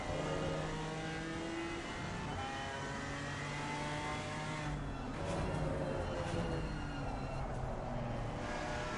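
GT4 race car engine accelerating at Laguna Seca in Assetto Corsa Competizione, a sustained droning roar rising and falling in pitch through gear changes, with other cars audible nearby.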